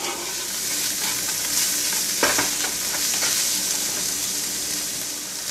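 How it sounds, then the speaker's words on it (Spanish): Chopped onion, garlic and chipotles in adobo fry in a pan with a loud, steady sizzle, broken midway by a brief scrape of stirring. "Ahora vamos a cocinar unas 2 cucharadas, digamos, de cebolla picadita, 2 ajos bien picaditos y 2 chipotles de adobo"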